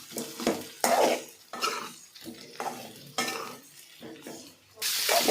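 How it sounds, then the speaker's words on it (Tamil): Sautéed tomato and onion being stirred together with other ingredients in a pan: bursts of scraping and clattering utensil strokes with a soft sizzle between them, close by, no speech. "எல்லாம் சேர்த்து எல்லாம் இதில் படுற மாதிரி நல்லா கலந்து கொடுத்துடலாம்"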